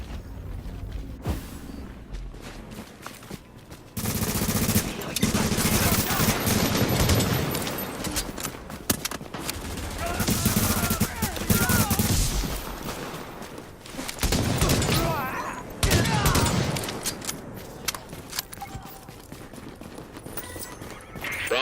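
Bursts of gunfire and combat noise in The Division's Last Stand multiplayer mode during a fight over a fortification point, loud and sustained in several waves with quieter gaps between.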